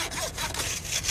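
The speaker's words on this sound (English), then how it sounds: "By sawing apart one of its bones, they can examine the condition of the marrow." A saw cutting through a bison bone with steady, rough rasping strokes, close and moderately loud, with no talk over it.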